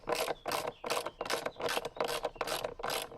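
A ratchet wrench clicks in a steady rapid rhythm during DIY roof balcony reconstruction, about eight evenly spaced bursts of ratcheting, close and clear with no talk.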